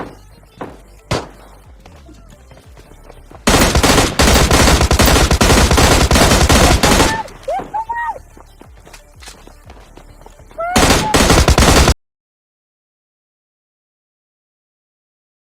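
Long bursts of rapid automatic gunfire in PUBG Mobile Lite, loud and close, with a quieter stretch between them, then sudden silence.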